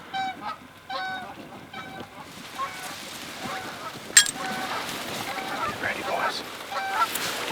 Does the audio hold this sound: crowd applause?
no